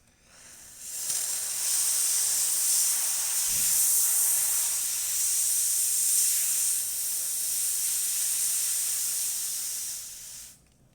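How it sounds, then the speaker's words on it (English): Steam wand of a La Pavoni lever espresso machine hisses in one steady, loud, high-pitched rush for about ten seconds, starting and stopping abruptly with nothing else heard. "And the steamer."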